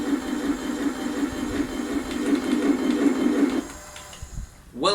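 A Heng Long Jagdpanther RC tank's simulated engine sound hums as a steady mechanical drone from a small speaker, close and moderate, then cuts out before a short rising electronic whine.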